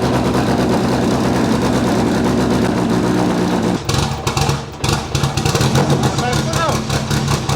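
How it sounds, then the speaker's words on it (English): An RS500 Cosworth touring car engine runs loud and close, holding a steady throbbing idle before being blipped into a few rougher, uneven revs partway through. "Give it a few revs."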